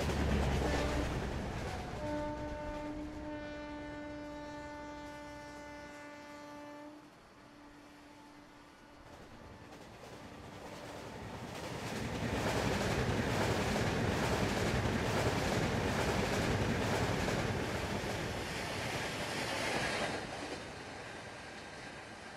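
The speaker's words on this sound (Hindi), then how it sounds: "यहाँ पे दूसरी ट्रेन है जो हमको ओवरटेक करने वाली है, जिसका ट्रेन नंबर है 12602 Mangaluru central MGR Chennai central mail" Train 12602 Mangaluru Central–MGR Chennai Central Mail overtaking on the main line: a long horn blast first, then a loud, continuous rush of rolling wheels and rattling coaches passing close by.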